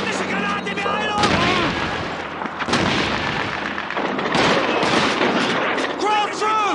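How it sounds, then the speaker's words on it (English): Grenade blasts and gunfire from the Call of Duty 2 mission Assault on Matmata, loud, dense and continuous, with booming explosions near 1 s, 2.7 s and 4.4 s, crackling rifle shots throughout and shouted voices mixed in. "Look out, grenade! British grenade behind us!"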